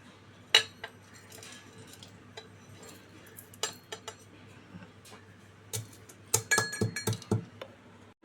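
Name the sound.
whole spices pounded in a mortar and pestle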